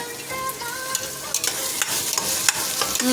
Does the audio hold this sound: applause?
no